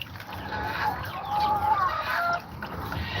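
Chicken clucking at close range during bird processing on a farm, a run of short, nasal clucks and murmurs rising and falling over a few seconds with no talk.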